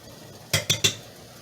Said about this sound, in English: I'm just using a metal spoon to get some of that off as it comes to a boil